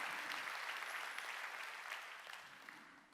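A church congregation claps together in a dense, fairly distant burst during a Wednesday worship service, the applause slowly fading over a few seconds.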